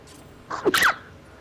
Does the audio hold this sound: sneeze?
yes